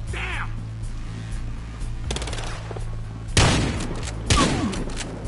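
Gunfire from the video game Battlefield Hardline: scattered shots and two sharp, loud bursts stand out over a low, steady game hum and engine drone.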